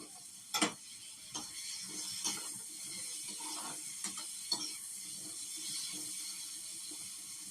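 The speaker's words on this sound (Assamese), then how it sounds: "পিঁয়াজ বিলাহী আৰু আদা নহৰুখিনি 2 মিনিটমানৰ কাৰণে ফ্ৰাই কৰিম।" Onion, tomato, ginger and garlic frying in butter make a low steady sizzle, broken by sharp clicks and taps of a utensil against the pan, close and fairly quiet, no voices.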